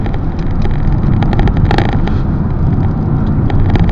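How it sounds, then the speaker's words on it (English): Inside a 2009 Vauxhall Insignia 1.8 with a 6-speed manual gearbox on the road, a loud, steady low rumble of engine and road noise runs throughout, with no voices. "This car is very smooth to drive. It flows along effortlessly."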